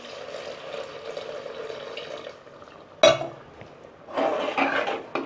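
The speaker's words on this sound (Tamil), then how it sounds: "அடுத்ததான் தேவையான அளவுக்கு தண்ணி." Water poured into a pressure cooker pot of mutton chops curry, a splashing pour near the end after a spoon clatters against the metal, with a quieter sizzling hiss before.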